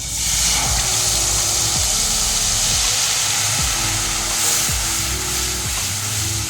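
Tomato puree sizzles loudly in a hot pan of roasted gram flour for paneer bhurji, a dense steady hiss close up with some low rhythmic bubbling underneath and no speech.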